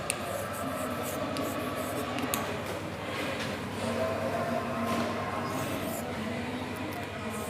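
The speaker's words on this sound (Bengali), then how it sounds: "তাহলে সেটটা আমরা একটু লিখি" A pen scratches out math on paper during a ninth-grade set problem, giving soft, close, intermittent scribbling strokes over a faint steady room hum.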